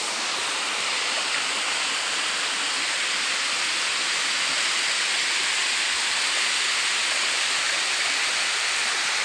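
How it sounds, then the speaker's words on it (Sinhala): Water pours steadily over a village dam, a loud, continuous rushing roar that holds even and unbroken from start to finish with no voices. "මේ වතුර ගලාන යනවා මේ."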